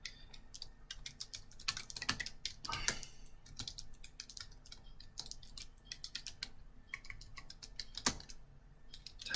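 Rapid, irregular keystrokes on a computer keyboard, close and clear, with bursts of typing, brief pauses and a few louder key presses in a quiet room.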